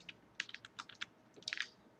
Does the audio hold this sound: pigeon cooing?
no